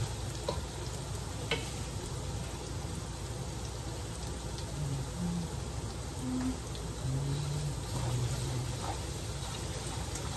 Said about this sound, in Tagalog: Pupulahin mo natin yung ginger at saka bawang.